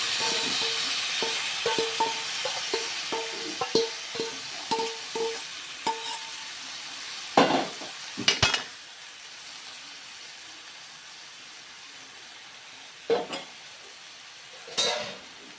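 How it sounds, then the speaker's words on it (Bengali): Lentils for home-made dal tarka fry in a little hot oil, giving a steady hiss broken by repeated scraping stirs and spoon taps against the pan, with a few louder clatters later and no talk. "তেলটা গরম হয়েছে, ডালটাকে ভেজে নেব প্রথমে।"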